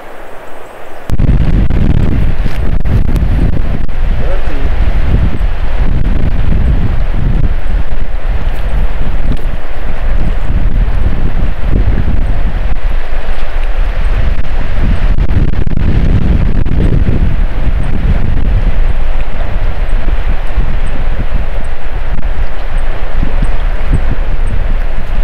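Wind blowing outdoors in the wilderness, a loud, steady roaring buffet against the microphone that gusts and swells continuously throughout.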